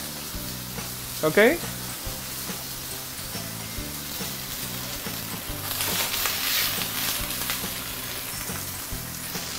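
Thick fish fillet pan-frying in hot oil gives a steady, close sizzle and crackle that swells louder in the second half; one person speaks briefly at the start.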